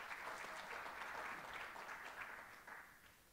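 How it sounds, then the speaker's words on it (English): Conference crowd at an industry panel on plant genetics investing claps for the panelists, a very quiet, distant, even spread of applause lasting a few seconds and fading slightly at the end. "please give up a round of applause for our panel"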